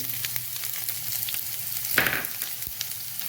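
Shallots, onion and garlic sizzling steadily in hot oil in a pan for jackfruit thoran, a close, continuous frying hiss with a brief stir around the middle.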